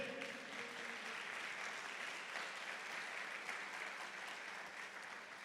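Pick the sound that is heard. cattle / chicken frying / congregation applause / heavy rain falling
congregation applause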